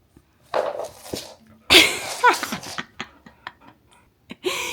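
A puppy makes short high whimpers and yelps, some with a rising squeal, scattered in bursts between moments of near silence, close and fairly loud, with no talk.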